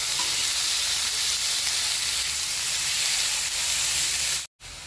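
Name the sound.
sautéing chopped beans and cabbage in a pan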